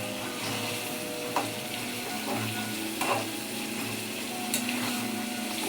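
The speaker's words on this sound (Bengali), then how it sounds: "এখন এটাকে ভালো করে কষাবো।" Egg and spice mixture with onions fries in a pan, a steady soft sizzle punctuated by a few light spatula scrapes and taps.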